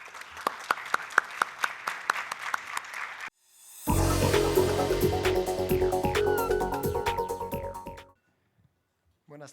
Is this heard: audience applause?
yes